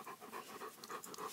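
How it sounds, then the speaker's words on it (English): A happy dog pants at home in quick, rhythmic breaths, five or six short huffs heard close up, soft and with no talking. "And there's my dog being super happy."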